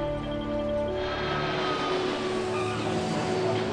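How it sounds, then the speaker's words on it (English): A Qantas Boeing 767 airliner on final approach into Melbourne drones with a steady, loud engine roar and tonal whine that holds evenly throughout, with no voices. "Qantas 401's final approach into Melbourne."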